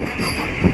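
Passenger train from Narasapur pulling into Uppaluru station, a brief steady rumble of railway cars with a louder low surge near the end, heard close and alone.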